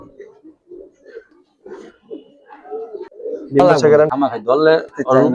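Pigeons of several breeds, including Giribaz, Kaldam and khaki birds, coo repeatedly in low soft bursts close by, then a person speaks loudly over them.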